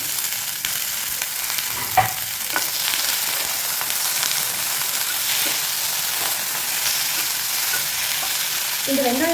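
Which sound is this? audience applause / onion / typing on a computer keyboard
onion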